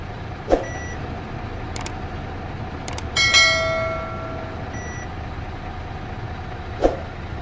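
A Mercedes-Benz Actros truck idles steadily while its gearbox resets, with a low rumble throughout, a few sharp clicks and clunks, and a brief rising mechanical whine partway through.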